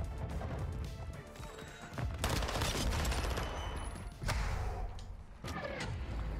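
Gunfire in Call of Duty Modern Warfare 2 multiplayer comes as dense, continuous bursts of shots and crashing impacts, loud and sustained with sharp peaks throughout.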